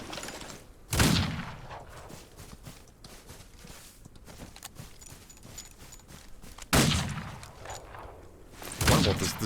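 Shotgun in the video game Outlaws of the Old West, three loud booming blasts spread far apart, each with a short decaying tail, over quiet footsteps and low background noise.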